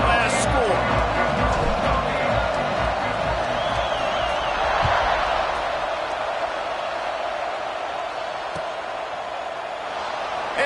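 A stadium crowd at a college football game between Arizona State and #11 Michigan keeps up a steady, loud buzzing roar throughout, with a commentator talking over it.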